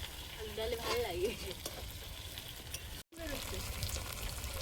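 Potatoes fry in a pan in a home kitchen with a quiet, continuous sizzle, while people talk over it. The sound cuts out briefly partway through, then the sizzle resumes.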